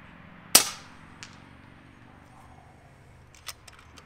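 An FX Maverick air rifle fires a single sharp, close crack that decays quickly, followed by a couple of faint mechanical clicks in otherwise quiet surroundings.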